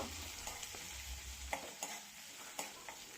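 Onion and curry leaves frying in a pan make a soft, steady sizzle close by, broken by several sharp spoon scrapes and taps as the mixture is stirred.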